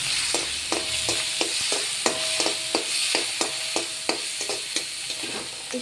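Vegetables frying with turmeric for a spinach, bori and mung dal dish: an even sizzle punctuated by rhythmic, regular scrapes and taps of a spoon stirring in the pan, close and alone.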